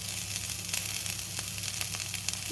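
Boiled cluster beans fry in an oil-and-turmeric pan, giving a continuous close sizzle with small crackles and light stirring clicks. No voice is heard over the cooking.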